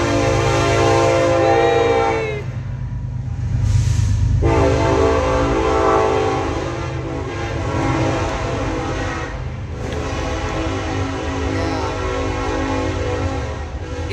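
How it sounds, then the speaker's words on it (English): A train rolling past with a loud, sustained multi-tone horn blast near the start, then the rumble and clatter of the cars continuing close by, no talking heard. "Here comes the train!"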